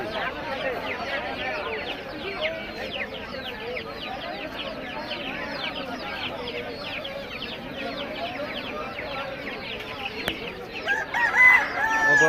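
Chickens at a village poultry market in Sonargaon, Narayanganj, cluck repeatedly in a dense chorus while a rooster crows, growing louder toward the end. Vendors and buyers talk in the background.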